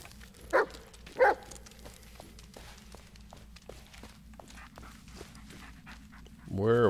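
A dog pants and sniffs in the Blair Witch video game, with quiet rhythmic breaths and two sharper sniff bursts early on, then light footsteps before a voice speaks at the end.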